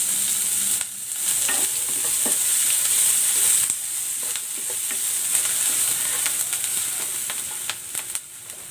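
Garlic and onions sizzle in hot oil for chicken asado, a bright steady frying hiss with scattered stirring clicks and scrapes, close and continuous.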